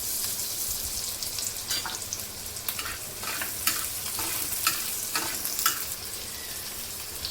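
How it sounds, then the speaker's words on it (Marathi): Green chilies sizzling in hot oil in a pan, a continuous close hiss broken by regular scraping strokes of a spoon as they are stirred. "तेल गरम झालं की आपण मिरची टाकून घेणार."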